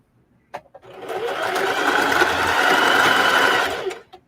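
A sewing machine runs steadily for about three seconds, stitching a ruffle sock seam, with short clicks and starts on either side of the continuous whirring.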